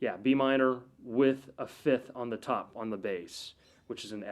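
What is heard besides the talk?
No distinct noise like a dog, phone or traffic.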